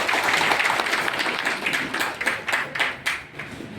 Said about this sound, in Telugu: ఒకసారి చప్పట్లు కొట్టింది